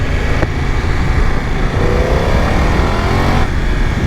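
A BMW F900 XR 900cc twin-cylinder motorcycle accelerating on the road, its engine loud and close, rising in pitch with quick-shifter gear changes amid heavy wind rush.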